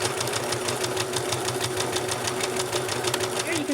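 A sewing machine stitching a 1 cm seam along both sides of two fabric pockets, running in a fast, even mechanical rhythm, close and fairly loud throughout.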